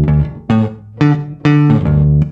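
A recorded bass guitar solo track drenched in reverb: five plucked, sustained notes about every half second, each ringing into a lingering tail, with no talking.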